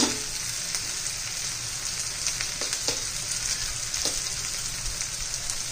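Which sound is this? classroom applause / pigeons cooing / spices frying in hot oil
spices frying in hot oil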